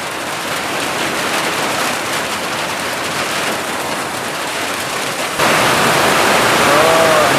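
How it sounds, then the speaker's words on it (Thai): Heavy rain pours down steadily in a dense, loud wash, growing even louder in the final two seconds; no one speaks over it. "ฝนตกหนักเลยพี่น้อง"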